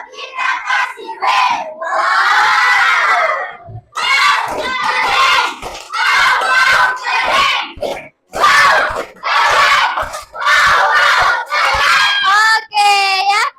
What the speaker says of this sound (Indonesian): Kita beri apresiasi dulu untuk semuanya dengan memberikan tepuk WOW